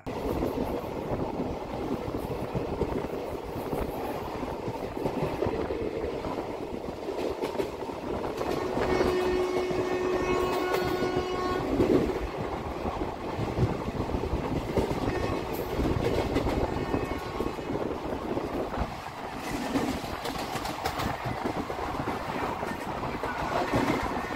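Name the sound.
express train running through station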